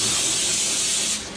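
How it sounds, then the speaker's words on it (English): A can of Pam cooking spray hisses into a breakfast pan for scrambled eggs, one continuous close, loud spray burst that tapers off at the end, with no talking. "we did a Pam spray"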